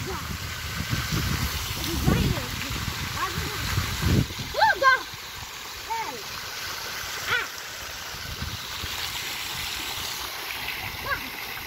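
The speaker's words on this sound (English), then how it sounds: "Oh, it's blowing water." Park water fountain splashing steadily in the open air, a continuous watery wash with brief gurgling bursts, while children and adults talk and call out nearby throughout.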